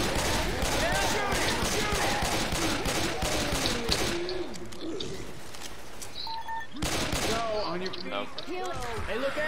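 Rapid gunfire rattles in Left 4 Dead 2 in dense bursts for about four seconds, breaks off, then resumes near the end, with voices talking over it throughout.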